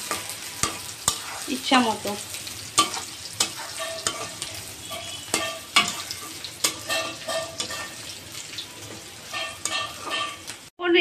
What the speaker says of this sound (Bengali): এখন সব নাড়াচড়া করে দিয়েন